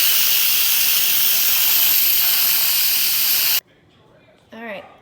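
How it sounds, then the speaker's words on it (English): Steam blasting from the release valve of an Instant Pot pressure cooker, a loud continuous hiss that cuts off abruptly, followed by a short voice. "this is the part I dislike the most about the pressure cooker, and especially the Instapot in general, is that it makes a big old mess when you let the steam out"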